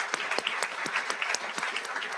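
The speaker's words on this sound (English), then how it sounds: "let's give another round of applause to all our award recipients" Award recipients at a university convocation receive a round of applause, with steady, moderately loud clapping from a crowd throughout.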